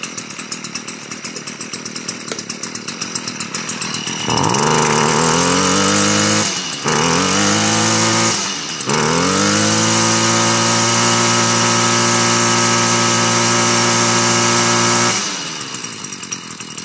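A STIHL FS 55 brushcutter that runs rough and does not rev high enough: a close two-stroke buzz that revs up in three surges with brief dips between, then holds a loud, steady high whine before dropping back.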